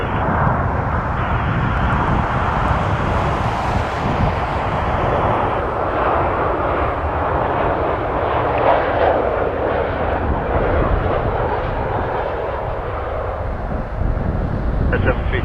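At Toronto Pearson airport, a jet airliner roars steadily during takeoff, a broad continuous rumble that holds loud for the whole stretch with only a slight shift in tone.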